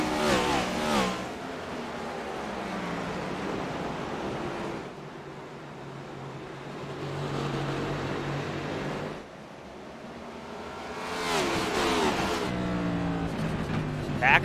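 Ford race car engine in a Martinsville oval racing video game, loud sustained revving with shifting pitch as the car accelerates and lifts through the corners, continuous for the whole stretch.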